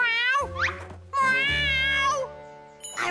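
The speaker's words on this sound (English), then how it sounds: "Meow. Did you hear that? I think it might be Cat." In an animated children's cartoon, a cat character lets out drawn-out, pitched meows in three separate calls, each clear and close, with short pauses between them.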